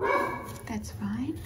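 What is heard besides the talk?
dogs barking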